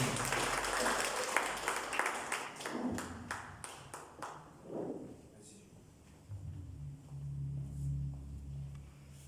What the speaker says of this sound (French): Sous les applaudissements, merci